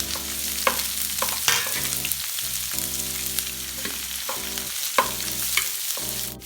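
Garlic, ginger and green chilli sautéing in a pan, a loud continuous frying sizzle with repeated stirring scrapes throughout.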